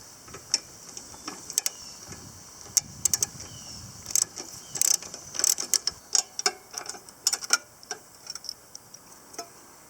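A ratchet works on bolts on the carburetor of a Toro Personal Pace Recycler self-propelled lawn mower. Quick, close clicking bursts come in irregular clusters that grow busier toward the middle, over a quiet background.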